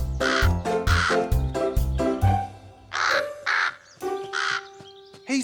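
A cartoon crow perched in an apricot tree caws loudly and close by in a run of harsh, repeated calls, with short gaps between bursts and no talk over them.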